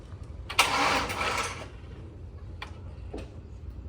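A Chevrolet C6 Corvette engine cranks and catches in a short, loud burst lasting about a second, then falls away to faint ticking in a quiet setting.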